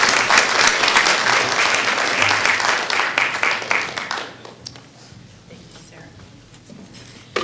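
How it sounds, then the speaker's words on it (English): An audience applauds loudly for about four seconds, then the clapping thins out and fades to scattered claps and murmurs. "So if we could give Governor Blanco a round of applause."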